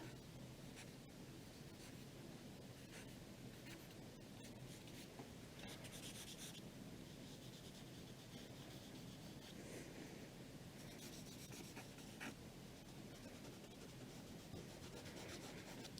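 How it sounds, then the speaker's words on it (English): Charcoal drags across textured paper in a landscape study, making a steady, continuous scratchy rubbing that stays faint and even throughout, with no voices. "If you're working with charcoal, you want to make sure that you have some kind of a surface that has a little bit of texture to it."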